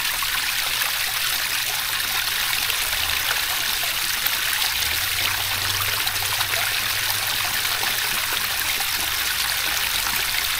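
Water pours steadily from a homemade DIY pond filter into a backyard pond, a loud, even rushing and splashing like a small stream. It runs unbroken throughout, close by, with no voices.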